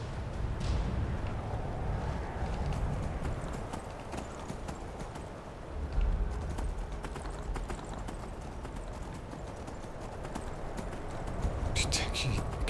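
Horse hooves clip-clopping in the video game Skyrim, a fast steady gallop up close, with someone speaking French over it and a brief whinny near the end.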